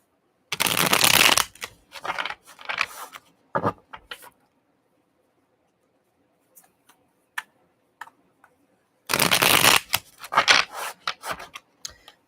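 Spirit-card deck shuffled by hand in two bursts, crisp riffling and rubbing up close with a long quiet pause between, no talk.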